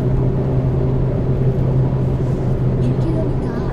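A car cruises on a Korean expressway, heard from inside as a steady, close low rumble of road and tire noise with no break.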